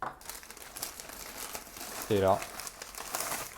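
Paper crinkling during the unboxing of a mystery parcel, a brief loud rustle following a short spoken remark and heard between soft handling noises.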